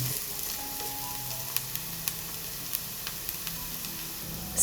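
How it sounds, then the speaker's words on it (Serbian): Garlic frying briefly in a pan for a creamy pasta sauce, a soft continuous sizzle with a few sharp pops and ticks scattered over it, close and fairly quiet, no talking. "Pred kraj dodajem beli luk, pržim ga kratko, samo da zamiriše i pusti aromu."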